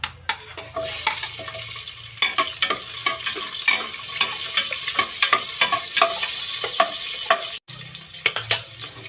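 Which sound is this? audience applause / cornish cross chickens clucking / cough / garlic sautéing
garlic sautéing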